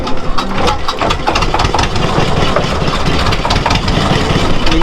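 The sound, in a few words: boat engine starting on a Sundarbans river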